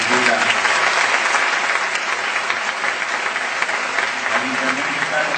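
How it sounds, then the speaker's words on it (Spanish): Sustained audience applause fills the Teatro Marconi in Saladillo, a dense, steady wash of clapping hands from a large crowd at a theatre performance, loud and continuous throughout. "pedir un fuerte aplauso para este Teatro Marconi de la Municipalidad de Saladillo"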